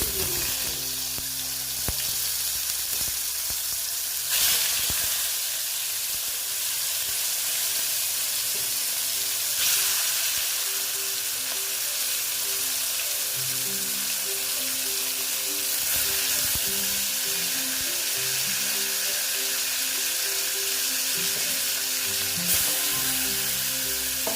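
Pieces of boal fish frying in hot oil in a pan with turmeric, giving a steady loud sizzle throughout with occasional stirring clatter and no voices.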